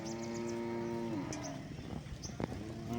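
Native cattle moo at a country cattle market, with one long, close, low call that trails off, then scattered market clatter and another animal calling faintly.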